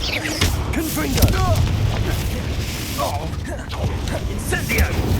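A Confringo blasting spell in Hogwarts Legacy bursts amid ongoing combat, with booming impacts, mechanical clatter and voices running through the fight.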